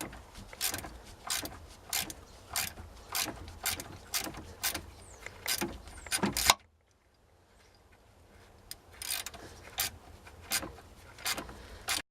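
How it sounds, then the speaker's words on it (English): Ratchet with a deep 9/16 socket backing a bolt off a cheap salvage boat engine: a close, steady run of sharp clicking strokes, a brief silent pause, then the clicking resumes. "I'll go ahead and use a deep 9/16 socket and go ahead and take that out."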